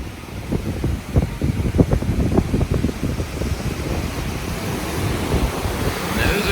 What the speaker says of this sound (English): There's some pretty decent waves coming off of Lake Erie today.